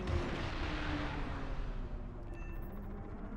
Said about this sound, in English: If I launch enough missiles, maybe they will hit.